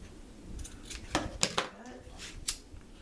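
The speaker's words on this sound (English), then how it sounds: "And then you cut at an angle." Scissors snip ribbon at an angle to trim it for a bow, giving a few sharp, close clips with a faint rustle of ribbon between cuts under quiet room tone.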